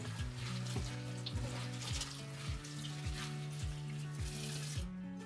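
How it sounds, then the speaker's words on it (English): Wild garlic leaves rinsed under a running tap, a steady close hiss and patter of water over the greens, continuous for several seconds with slight splashy variations. "Give the wild garlic a quick rinse"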